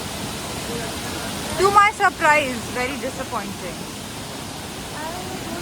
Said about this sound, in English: Reached Kempty Falls, and this is the waterfall that we were waiting for.